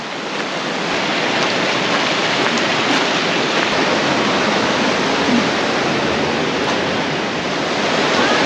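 Running water rushing through Partnach Gorge in cold winter air, a steady, loud, dense roar that stays constant throughout with no voices.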